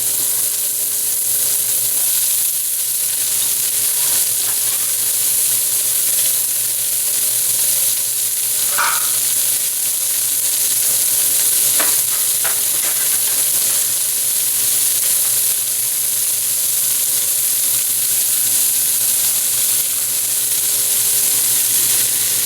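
Chopped onions and garlic sizzle in a pot for a pot roast, a steady, even hiss running throughout with a few brief stirring sounds near the middle.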